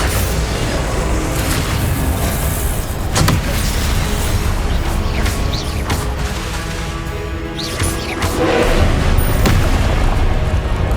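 Hogwarts Legacy combat plays loud and dense: booming spell blasts and crashing explosions over a busy rumbling backdrop, with sharp bursts repeating across the stretch and no speech.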